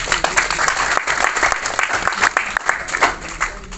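An audience claps at a Holi comic poetry gathering, a short burst of lively applause with crisp separate claps, fairly close and loud.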